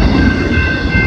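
Canadian Pacific train 234 rolls past on the Galt subdivision at Maitland Street in London, Ontario, in winter, a loud, close, continuous rumble of railcars with steady wheel noise.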